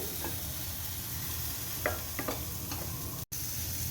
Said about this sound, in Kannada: ಈರುಳ್ಳಿ ಮತ್ತು ಬೆಳ್ಳುಳ್ಳಿ ಫ್ರೈ ಮಾಡ್ತಾ ಇದ್ದೀನಿ